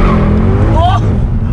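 A tuned 510 bhp Mercedes C63 AMG revs loudly and close on the throttle, its rising engine note sweeping upward as the rear end steps out, with a voice over the roar.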